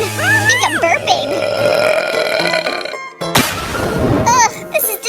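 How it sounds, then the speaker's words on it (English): A child's loud, drawn-out burp during a food challenge, croaking for several seconds, followed by a short gap and a second rough eructation, with voice-like tonal sounds at the start. "I think I'm burping."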